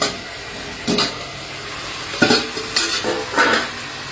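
Chicken leg pieces sauté in a pan over a low, constant sizzle, with a few bursts of scraping and stirring as the spatula moves the meat around.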